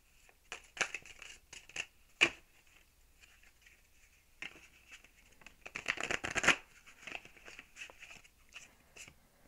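Tarot cards being shuffled and drawn from a deck: a run of quick papery riffles and soft slaps, with louder bursts of shuffling around the middle and a few sharp card snaps, close and fairly quiet with no talking.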